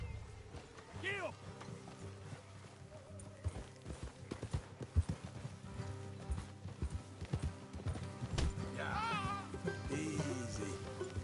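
Horse hooves clip-clop steadily at a riding pace in Red Dead Redemption 2, with speech and other voices laid over the rhythm throughout.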